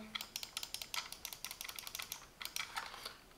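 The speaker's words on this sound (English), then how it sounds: "Right and left click, the wheel, you can press the wheel" Buttons of a Silvercrest gaming mouse being clicked: a quick, close series of small light clicks in uneven rhythm, with no talking.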